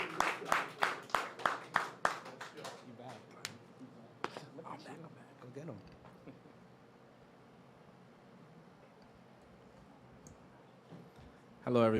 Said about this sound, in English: Give a round of applause to our next act